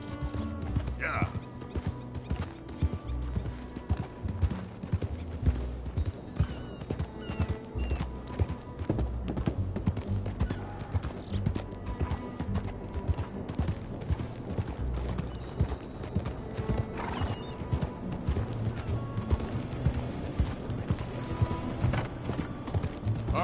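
Horse hooves clip-clop in a steady rhythm in the Red Dead Redemption 2 video game, mixed with creaking tack and gear sounds under a continuous game soundscape.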